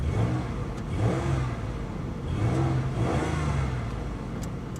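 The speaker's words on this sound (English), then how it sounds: "Let's give it a little rev." A 2019 Chevrolet Silverado engine revs up twice, each surge rising and falling over a steady idle. The sound is loud and close, with no talking.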